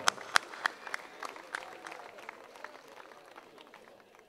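Audience at an outdoor folk music summer camp applauding a singer, sharp individual claps at first swelling into a broader patter that slowly tapers off.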